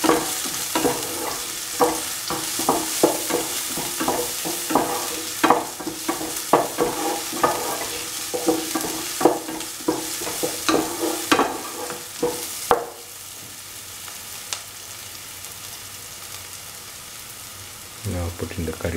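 Shallots salted and frying in a pan while a home-style mixed vegetable stew is cooked, with loud sizzling and frequent stirring scrapes for about thirteen seconds, then a quiet low simmer near the end.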